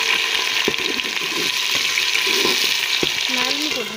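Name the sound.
stirring chili into frying onion-tomato masala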